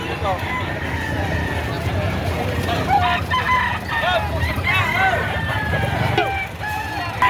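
Chickens crow and cluck at a busy livestock market where roosters are sold, with the calls rising now and then above a constant babble of nearby voices and general crowd noise.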